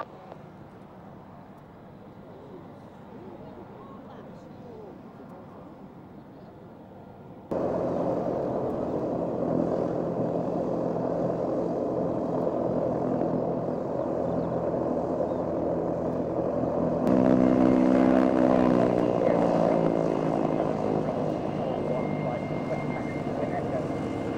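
An aircraft engine starts up at the 2007 Waddington airshow, a low steady hum that steps up louder and then settles into a droning, tonal whine, with faint radio-style voices underneath.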